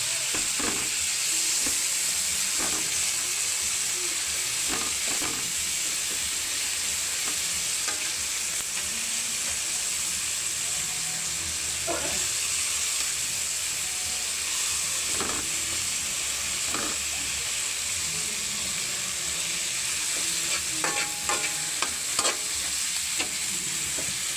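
A dish made with bagoong is stirred in a hot pan, a constant sizzle of frying underneath repeated scraping and clinking strokes of a utensil against the pan, close and steady throughout; no voices.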